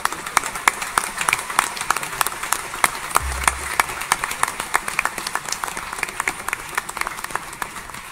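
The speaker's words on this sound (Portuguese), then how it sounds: "Com uma salva de palmas, muito obrigado." An audience at a Portuguese university tuna music performance bursts into applause, sharp individual claps peaking clearly over a dense crowd wash, loud and sustained across the whole stretch.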